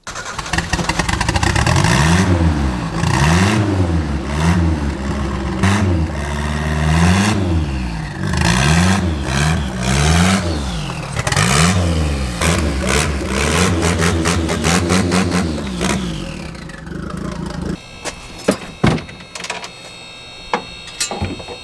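A turbocharged Nissan 240SX drift car engine revs repeatedly in loud rising and falling sweeps, sharp blips over a rough idle, then cuts out near the end, leaving scattered clicks and knocks.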